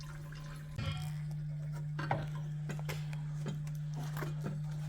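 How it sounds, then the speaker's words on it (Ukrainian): A clogged filter from a Chevrolet Aveo heater radiator flush is rinsed with water: close splashing and dripping over a steady low hum, with a few sharper water bursts and no talk. "Забиває відразу фільтр, тому знімаємо фільтр, миємо його."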